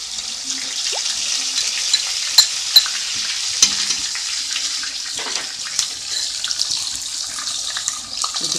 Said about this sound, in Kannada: ಎಣ್ಣೆ ಕಾದಿದೆ. ಈರುಳ್ಳಿ ಪೇಸ್ಟು ಹಾಕ್ಕೊಳ್ತಾ ಇದ್ದೀನಿ.